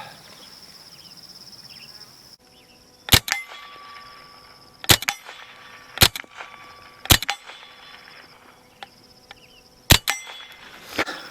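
Roughly six sharp, separate cracks from an early Winchester semi-automatic rifle, fired at irregular intervals of one to three seconds against a steady background drone of insects or crickets, with no talk.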